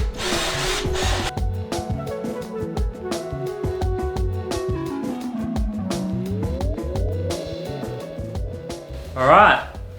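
A power drill whirs in repeated short bursts at close range while furniture is assembled for a home podcast studio, with rising and falling motor pitch, tool clatter, and people talking between runs.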